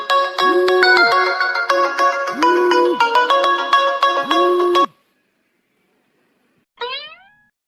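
A phone ringtone plays a bright electronic melody for about five seconds, then falls silent before a short rising chirp sounds.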